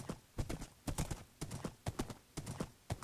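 A horse in the video game Minecraft trots along, its hooves clip-clopping in a steady, fairly quick rhythm of clear separate clops across the whole stretch, with a soft breathy background.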